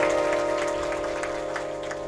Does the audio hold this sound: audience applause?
yes